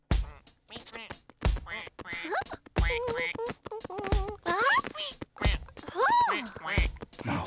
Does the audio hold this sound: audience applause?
no